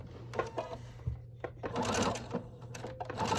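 Sewing machine running a straight stitch down face mask fabric, a steady mechanical whir with a low hum and quick needle clatter that surges and pauses in short bursts, close and moderately loud.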